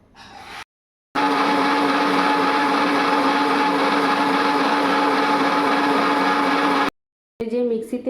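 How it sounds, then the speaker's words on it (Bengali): Electric mixer grinder whirs loud and steady for about six seconds as it grinds wet spice paste, with short quiet gaps before and after the run. "মাঝখানে আমি একটু বাটনাটা বেটে নিই, মিক্সিতে বাটবো"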